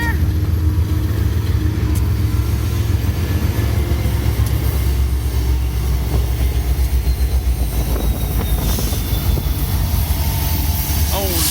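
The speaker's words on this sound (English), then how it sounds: "Dirty coal train." A long, heavy coal train rumbles past close by in Dallas, Texas, its steady low roar punctuated by rhythmic wheel clatter and occasional metallic squeals.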